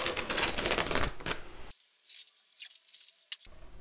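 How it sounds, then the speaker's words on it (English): Masking tape being peeled off a lacquered ES 335 guitar body in a workshop, giving close, crackly ripping and tearing noise in bursts with a brief quiet gap. "So I'm going to get this masking tape off."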